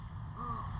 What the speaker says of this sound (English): One of the Busch Gardens birds is wanting to say hello.